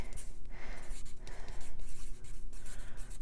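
Pen writing on paper in an ink pad review setting, a steady close scratching with rapid strokes repeating throughout.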